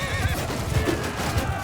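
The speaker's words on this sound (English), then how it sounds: "Get out of the way, horse." A horse whinnies in the medieval battle game Mount & Blade II Bannerlord, a loud nearby neigh amid clip-clopping hooves and a dense battlefield din.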